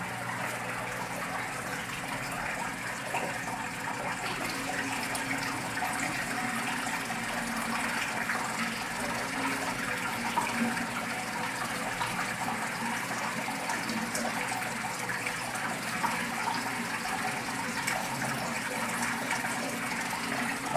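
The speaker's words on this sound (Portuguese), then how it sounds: "Água desprovida de cloro e de materiais pesados, é só completar aos poucos agora." Dechlorinated water pours steadily into an aquarium during a partial water change, a continuous close gushing and splashing that stays even from start to finish, with no talking.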